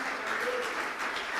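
A church congregation breaks into steady, dense applause, a continuous wash of many hands clapping together that fills the room.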